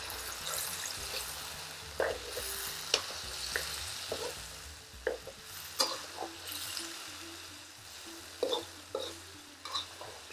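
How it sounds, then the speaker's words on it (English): Fresh tomatoes fry in a pan for a karahi gravy, sizzling steadily while a utensil stirs and scrapes, with scattered sharp clicks and knocks against the pan, close up and with no talking. "we're really going to make our gravy by using all of these fresh tomatoes"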